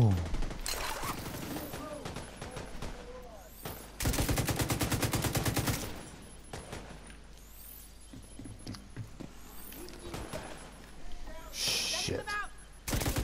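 Gunfire in The Division 2 at the Tidal Basin stronghold: scattered sharp shots throughout, a dense two-second rapid automatic burst near the middle, then sparser reports and a loud crackle near the end, fairly quiet overall.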